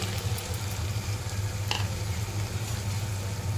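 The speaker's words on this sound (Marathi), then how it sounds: "त्याला आपण फिरवून घेतले थोडा वेळ" Ivy gourd curry with peeled val beans fries steadily in a pan while being stirred, a continuous close sizzle with soft scraping and a faint clink.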